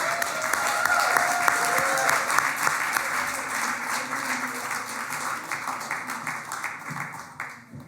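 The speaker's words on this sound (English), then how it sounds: "Give them another round of applause." Applause from a panel audience at a live event starts full and steady, then thins into scattered individual claps as it gradually fades, with some faint voices underneath.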